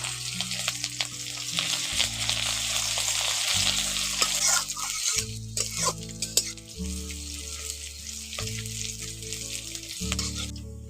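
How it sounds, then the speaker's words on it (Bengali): Chopped onion with cumin fries and hisses in a pan for a khesari dal and egg dish, with repeated stirring scrapes. Loud background music plays throughout. "এবার এর মধ্যে দিয়ে দিচ্ছি পেঁয়াজ কুচি পেঁয়াজ কুচিটা ওর সঙ্গে দিয়ে ভালো করে একটু নাড়াচাড়া করে ভেজে নেবো"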